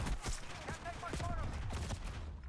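Shotgun fire on the Nuketown map in the video game Black Ops 6: several loud, punchy blasts mixed with dense game sounds and a continuous background din.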